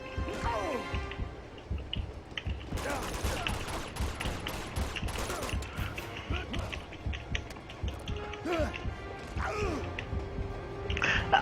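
Gunfire in the action video game Uncharted 2: Among Thieves: scattered sharp shots and impacts amid creaking, clattering game effects and a steady soundtrack, moderately loud throughout.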